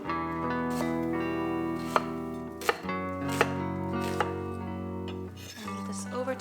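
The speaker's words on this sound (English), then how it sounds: "let's cut our onions and also mince our garlic" A knife chops onions and mince garlic on a board, a steady run of close, crisp taps with a few sharper knocks over a soft background hum, with no talking.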